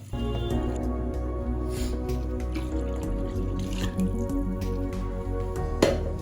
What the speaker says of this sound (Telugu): సో రైస్కి తగ్గ వాటర్ని యాడ్ చేసేసుకోవాలి